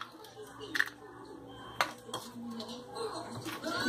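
A spoon scrapes and clinks against a pan while egg and sweet potato are stirred together for a fitness tart, with several sharp metallic taps over a low hiss and a voice talking in the background.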